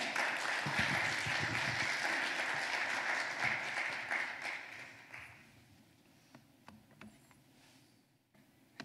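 A church congregation applauds to welcome a speaker: steady, dense clapping that fills the room for about five seconds, then fades into scattered claps and quiet.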